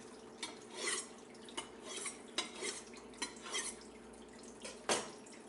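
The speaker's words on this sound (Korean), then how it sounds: "칼이 갈아지고 있습니다" A kitchen knife is sharpened by drawing its wet blade across the unglazed rim on the underside of a plate, giving a series of short, bright scraping strokes at an irregular rhythm, close and fairly quiet with no talking.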